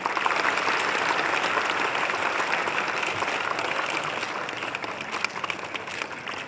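Audience applause at a program on small industries, a steady, fairly dense round of clapping from a crowd in a hall that eases off slightly toward the end.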